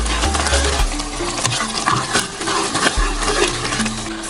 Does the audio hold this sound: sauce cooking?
yes